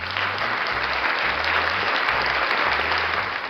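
A soundboard applause effect: a steady wash of applause from a crowd, continuous clapping at even loudness throughout with no voices standing out.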